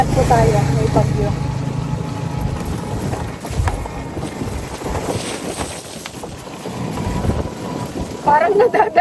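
Strong wind from Typhoon Uwan roars and buffets the microphone during a slow ride on an e-bike, a loud continuous rush rising and falling, with people talking over it.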